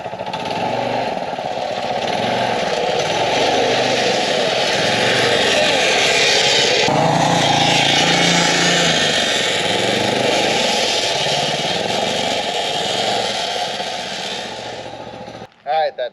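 The small engine of a vintage Heathkit Hiltopper mini bike runs steadily and loudly during a ride, a continuous buzzing drone with slight rises in revs, cutting out near the end.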